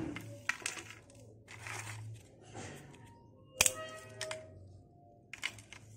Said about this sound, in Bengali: আমার ভাজা হয়ে গেল পাবড়িগুলো, খুবই সুন্দর মুচমুচে হয়েছে,